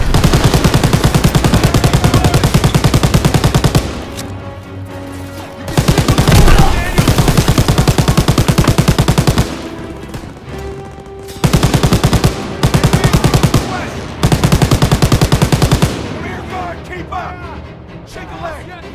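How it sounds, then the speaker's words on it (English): Loud, rapid bursts of half-track-mounted machine gun fire in the Call of Duty WWII video game come in long sustained volleys with brief gaps, mixed with other gunfire and shouted voices. "Daniels, get on the half-track MG!"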